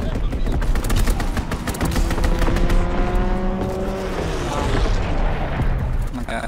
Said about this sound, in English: Right side inbound, strafing the target.